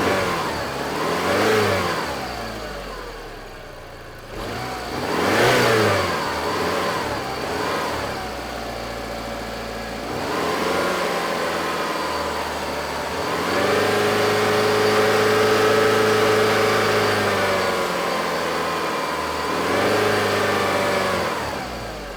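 A car engine idles and is revved several times, rising and falling in pitch, then holds a higher steady run, close and loud.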